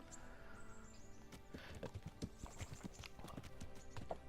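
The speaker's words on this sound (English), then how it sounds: "Me and my horse now." Horse hooves clip-clop at a steady walking pace in Kingdom Come: Deliverance, the close, distinct hoof strikes sounding over a soft ambient outdoor background.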